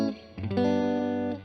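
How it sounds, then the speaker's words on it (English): Electric guitar played through a Fender Blues Jr. amp with its built-in spring reverb, a few picked notes settling into a sustained, shimmering chord that rings out and fades. "Nice spring reverb, not bad."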